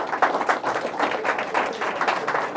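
A crowd at a motivational talk in India claps in a dense, steady wave that pulses slightly in rhythm. The applause is fairly close and sustained throughout, with little talk over it.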